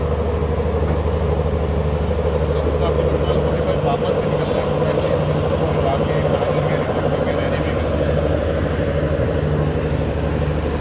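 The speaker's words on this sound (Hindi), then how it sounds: "और हमारी ट्रेन अब पहुँच रही है" Trivandrum Rajdhani train in first class arriving at Hazrat Nizamuddin station, heard from on board as a steady, loud low rumble and drone with a continuous mechanical hum throughout.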